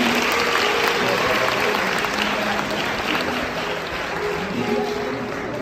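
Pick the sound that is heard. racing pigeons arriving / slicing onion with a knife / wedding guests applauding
wedding guests applauding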